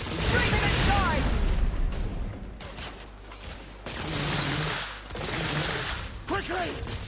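Heavy gunfire from The Order: 1886 crackles in dense bursts, with booms and mechanical clatter, under frantic shouted voices throughout.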